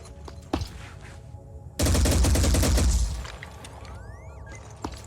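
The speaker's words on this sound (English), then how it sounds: "we could actually hammer down here with the Gatling cannon" Gatling cannon in the video game Phoenix Point lets loose one loud, dense burst of rapid fire lasting about a second, set among quieter game ambience and smaller mechanical clicks, with no voices.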